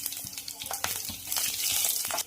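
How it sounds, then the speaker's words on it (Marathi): Cumin seeds, a bay leaf and green chillies sizzle in hot oil in a home kitchen while chole is being cooked. The crackling hiss is steady and close, growing a little louder toward the end, with a few sharp pops and no talking. "तेल गरम झालं की त्यात टाकूया थोडंसं जिरं, तेजपत्ता, हिरवी मिरची टाकूया."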